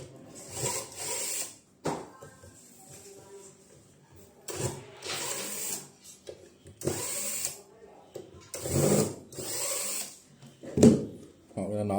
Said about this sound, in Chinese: 首先把螺丝拆了啊，这个地方是个螺丝啊